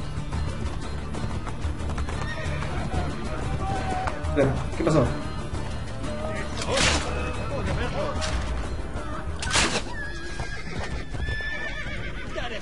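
In Assassin's Creed Brotherhood, a horse whinnies and snorts amid clopping hooves and game-like action sounds, with someone talking over it throughout.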